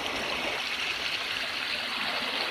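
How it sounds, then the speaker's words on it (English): Creek water flows in a steady, broad rushing wash that is close and continuous, with no other sounds. "Creek goes down through there."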